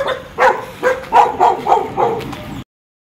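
Dogs bark near a fishing pond in Malaysia, a quick run of about six or seven sharp, fairly loud barks in a steady rhythm, with no talk over them.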